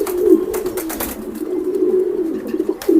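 Pedigree racing pigeon chicks coo in a steady, low, continuous murmur close by, with a few louder coos near the start and end, and no one speaking.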